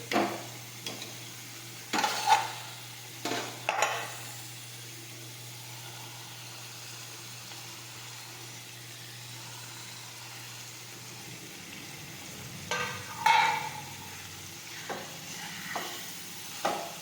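Fried okra is stirred into a simmering gravy, soft bubbling and sizzle under intermittent knocks and scrapes of a spoon against the pan, close and fairly quiet, with no talking.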